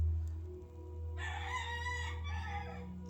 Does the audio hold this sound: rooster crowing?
yes